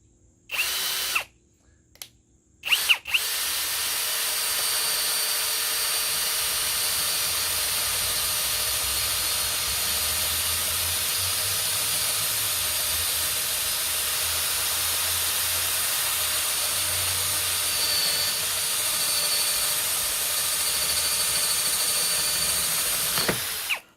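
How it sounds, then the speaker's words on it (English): A brushless cordless drill whirs steadily for about twenty seconds while drilling a hole, after a couple of short starts, a continuous close, high-pitched motor whine. "And the hole is now drilled."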